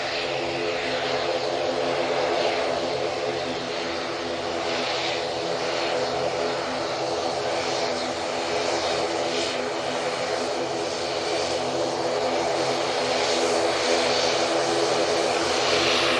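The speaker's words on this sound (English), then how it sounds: "we've got the props coming on in front" Aer Lingus propeller airliner taxiing at Manchester Airport, a steady loud turboprop drone with a broad whining roar that holds level throughout, heard alone without talk.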